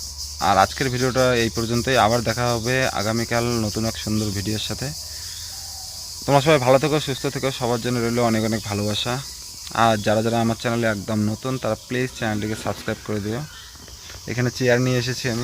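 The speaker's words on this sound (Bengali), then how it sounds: "আর এইদিকে যে ঝিঝি পোকার ডাক," Crickets chirp outdoors in a steady, high, continuous drone that runs under a person talking nearly the whole time.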